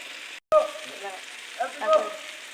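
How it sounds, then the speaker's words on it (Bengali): Boiled sweet pumpkin pieces fry in onion-flavoured oil with a close, steady sizzle. The sizzle cuts out briefly near the start, then continues with small bubbling pops. "পেঁয়াজ তেলে তেলের উপরে আমরা মিষ্টি কুমড়া ছোকাগুলো ছেড়ে দিয়েছি।"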